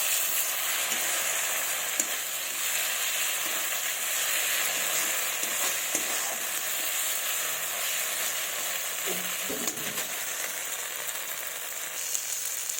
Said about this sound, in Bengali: এবার ভালোভাবে মশলাটাকে কষে নেব।